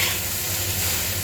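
Freshly cooked rice sizzles steadily in a hot pan while being fried for Chinese fried rice, a continuous close frying hiss with faint stirring underneath.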